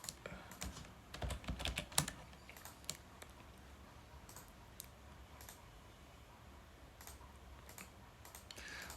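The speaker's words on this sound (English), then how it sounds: "let me type it." A computer keyboard is typed on in a quiet room, with a quick cluster of close, faint keystrokes near the start and a few scattered taps afterward.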